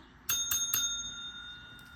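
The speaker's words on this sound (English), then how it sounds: "I got to ring the bell." A bell rung three times in quick succession, bright metallic dings that ring on and fade slowly, close and clear against a quiet room with no talking.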